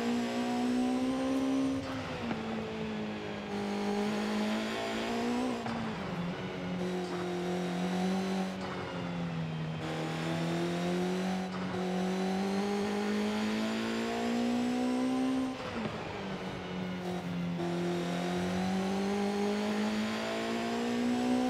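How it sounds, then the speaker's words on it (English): A 1997 Honda Civic Type R engine in Forza Horizon 5 revs up and down repeatedly, its pitch rising and falling in long sweeps, loud and steady without talk. "I'll let you guys just listen to the car"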